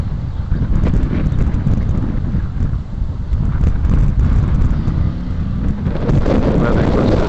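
Strong wind buffeting the microphone beside a bison enclosure at the Cherokee Trading Post, with a constant low roar and gusty rumbling throughout.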